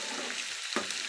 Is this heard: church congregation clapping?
no